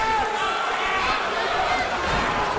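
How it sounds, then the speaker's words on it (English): A wrestling crowd at a Doncaster show cheers and roars loudly and continuously, a dense wall of voices with no pauses. "And the crowd responds even louder for the show of respect."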